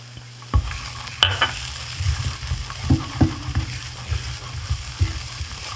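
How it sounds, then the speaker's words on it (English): Garlic sizzling in oil in a pan on a barbecue for Cajun shrimp pasta, a close, steady crackling fry with repeated utensil scrapes and taps throughout, no voices. "Alright, now we're going to go ahead and add in our garlic."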